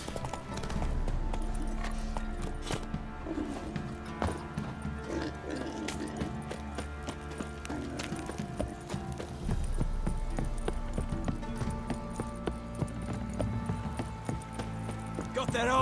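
A horse galloping in The Witcher 3: Wild Hunt, a rapid continuous clip-clop of hooves over a low rumble and game ambience, with voices speaking at times.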